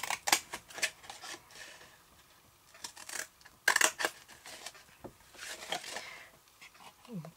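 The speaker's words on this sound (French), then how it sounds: "On va venir couper jusqu'au trait." Scissors snipping through cardboard along a marked line, a series of short crisp cuts in irregular bursts with pauses between them, close and fairly loud.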